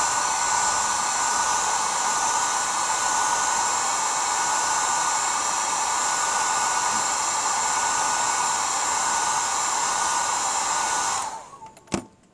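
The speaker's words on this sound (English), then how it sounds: "speed up the drying a little bit with using a hairdryer" A hair dryer drying paint blows in a steady, loud whir, then cuts off near the end, followed by a brief click.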